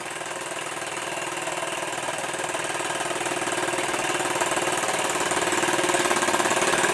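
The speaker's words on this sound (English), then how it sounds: "These old Mamods do really run smoothly." A 1946 Mamod SE2 model steam engine chugs steadily with a fast, smooth, regular beat, holding close and fairly loud throughout with no voices.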